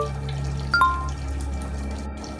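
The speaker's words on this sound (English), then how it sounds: "Water flowed freely into the shallow sink, splashing everywhere." A bathroom sink faucet in a horror video game runs steadily at full flow, water splashing into the shallow basin as a constant wash, with a brief brighter splash or drip partway through.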